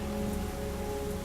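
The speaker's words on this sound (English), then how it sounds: "Very heavy rain, we're not going very far or very fast." Very heavy rain hammers steadily on a sailing boat, a dense unbroken hiss with a low droning hum running underneath, loud and close for the whole stretch.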